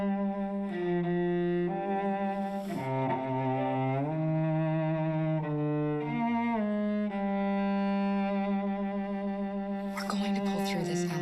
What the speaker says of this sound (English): taking Kara's name, Kara, Kara, and just using like a two-syllable motif, and it sounds like this.